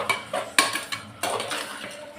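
Coconut milk rice made with ordinary parboiled rice being mixed in a pot with a spoon, producing several close metallic scrapes and clinks in irregular bursts.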